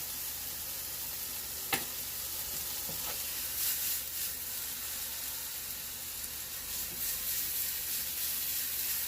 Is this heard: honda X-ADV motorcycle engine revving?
no